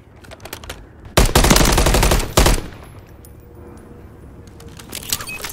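Automatic weapon fire in Call of Duty Modern Warfare 3 on PS5: two loud, dense bursts, the first lasting about a second, a brief second burst right after, then quieter battlefield ambience with faint scattered clicks.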